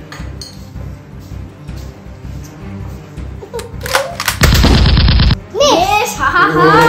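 A Zuru X-Shot Dino Attack toy blaster firing darts at home, a loud rapid rattling burst and clatter that rises over background voices and laughter.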